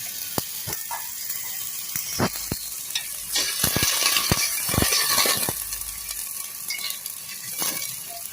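Water poured into a hot pan after frying crackles and hisses in a steady sizzle, with sharp clicks and scrapes of stirring or utensils close by.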